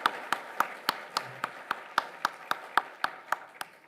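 A single person claps steadily at an awards-style pitch competition event, about a dozen sharp evenly spaced claps, fairly close and alone in a quiet room.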